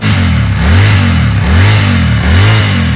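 A Royal Enfield Continental GT 650 parallel-twin on its stock exhaust revs repeatedly, rising and falling in three loud, close throttle blips with a deep, throaty note and no talk.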